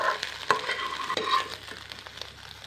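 Egg podimas is sautéed in a pan, with sharp spatula scrapes and stirring knocks over a soft sizzle that gradually fades; no voices.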